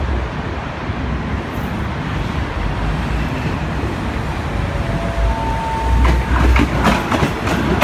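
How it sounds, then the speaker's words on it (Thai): An express train rolls past Bang Khen railway station in Thailand, a loud, steady rumble of wheels and rail clatter with rhythmic clicks swelling near the end as the cars pass close by. "เป็นขบวนรถเร็วนะครับผม"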